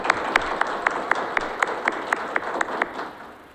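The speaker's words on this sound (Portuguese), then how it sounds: "Nossa salva de palmas." Audience at a Waiters' Day ceremony applauding, with a steady wash of clapping underneath and a regular series of sharper, louder claps standing out from nearby, fading slightly toward the end.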